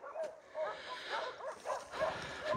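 An abandoned puppy cries outside a shelter, giving a run of repeated high whimpers and yips at close range, each short cry rising and falling, with background noise throughout.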